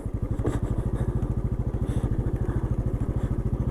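An off-road motorcycle engine idles close by with a steady, rapid thumping beat and a faint metallic clatter, running alone without talk.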